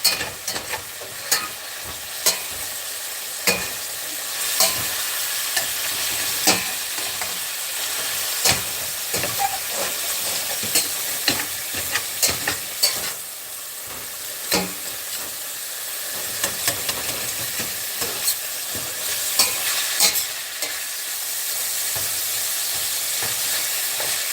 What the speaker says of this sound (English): Let's break up some of this ground beef. Try and get some of that stuff that's stuck to the pan.